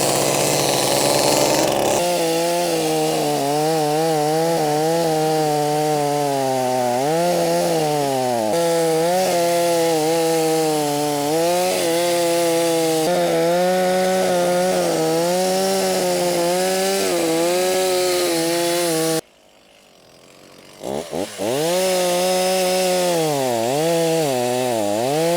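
Stihl 024 Super AV chainsaw, an old grandfather's saw with a newly replaced carburetor, cutting firewood logs, loud and close with a steady revving whine that rises and falls, briefly cutting out before restarting.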